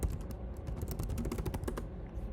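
Computer keyboard typing as a name is entered into a contact form, a brisk run of close, crisp key clicks with brief pauses, heard alone.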